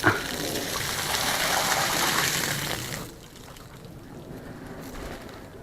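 Rainwater pouring from laden branches after a storm, a loud gushing splash for about three seconds that then drops to a softer dripping trickle.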